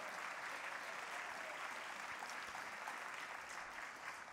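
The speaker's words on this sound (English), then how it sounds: "let's give that a round of applause for that" A steady, broad wash of audience applause fills a civic State of the Borough presentation in New York City, many hands clapping continuously at a moderate distance without pause.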